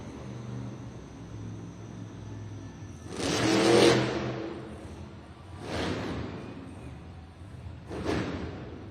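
Earthshaker monster truck at an arena show revs hard in three loud surging bursts during a wheelie run, each roar rising and fading, with a low crowd rumble between.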